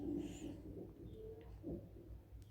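A bird coos softly, a pigeon- or dove-like call repeated twice against a low background hum.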